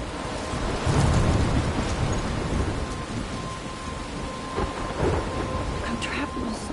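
Thunderstorm with steady heavy rain and rumbling thunder in the video game Life is Strange, a continuous wash of rainfall with low rolling thunder swelling near the start and again later, no voices.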